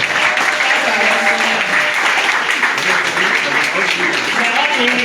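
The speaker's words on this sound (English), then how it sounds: "Let's clap for our soldiers." An audience at a health ministry launch event for an ultrasound reference guide claps steadily and evenly throughout, a full, close burst of sustained applause.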